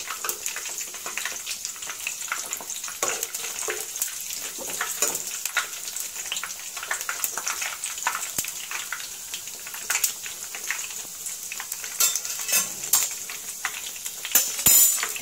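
Pieces are frying in hot oil, a constant crackling sizzle mixed with metallic utensil clinks and scrapes against the pan, close and steady throughout with no one speaking.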